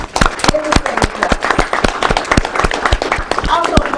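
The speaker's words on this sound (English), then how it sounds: "Give yourselves a round of applause" Audience applause at a business breakfast event, a burst of scattered sharp claps from a modest crowd, fairly loud and close, with some talk mixed in.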